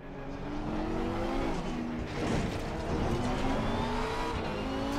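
A Porsche race car overtakes in a racing video game, its engine roaring steadily with shifting tones as the cars run close together, loud and continuous throughout.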